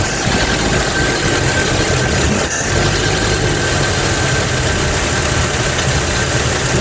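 A 1957 Chevy engine, just started after repairs, idles loudly and steadily with a rough, knocking vibration, close and constant with no pauses.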